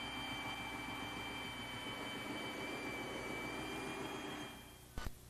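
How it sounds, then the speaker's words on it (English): Belt sander grinding wood off a cabinet face frame, a steady, continuous whining and rasping drone that runs for several seconds, then winds down, followed by a couple of brief knocks. "with a belt sander, remove the waste up to the scribe mark."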